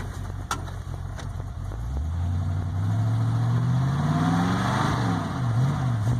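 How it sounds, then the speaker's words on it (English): Ford Ranchero from 1966 fitted with a 1988 Mustang 5.0 engine idles with a low rumble, then is revved up in rising and falling sweeps, loud and close, with a couple of faint clicks early on. "And I'll give her a little rev."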